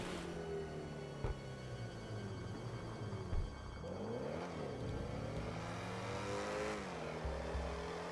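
The XA-21 supercar's engine in GTA V drones and revs steadily while driving, its pitch rising and falling with acceleration and shifts, heard alone and at moderate volume.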